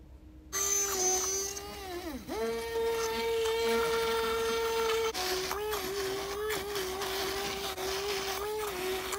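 An electric hand mixer whirs loudly as it mashes cooked plantain into fufu, its motor pitch dipping under load and then recovering as it runs steadily close by.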